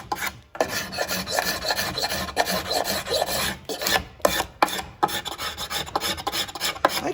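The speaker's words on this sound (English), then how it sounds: "if I take my paint scraper, I told you that's my most used piece of equipment in this shop, and I scrape this down" A paint scraper rasping down a wet finish on a wooden jewelry box, a close, loud run of repeated scraping strokes with short pauses between passes.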